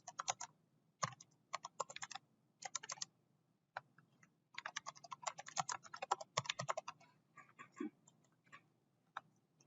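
Someone types a group name on a computer keyboard during software data entry. Quiet, close key clicks come in short irregular bursts with pauses between them, and nobody speaks.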